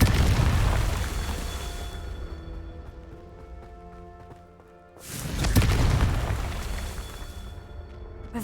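Confringo spell blasts in Hogwarts Legacy go off as two heavy booming explosions, each followed by a long rumbling decay, over a low continuous game soundscape with no voices.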